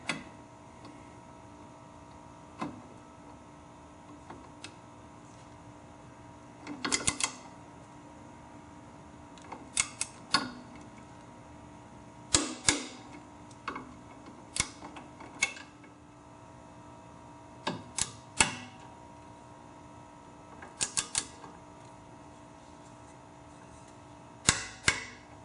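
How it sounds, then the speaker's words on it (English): A torque wrench tightening the saddlebag guard bolts on a 2016 Yamaha FJR1300, sharp ratcheting clicks in short scattered bursts over a quiet background, close and crisp with pauses between. "I'm going to go ahead and torque both bolts"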